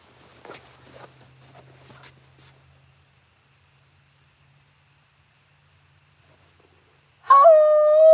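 A dog howls across a river at night. Faint rustling fills the first seconds, then a long stretch of near silence, and finally a loud, wavering, drawn-out howl rises at the end.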